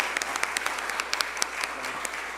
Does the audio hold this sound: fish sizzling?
no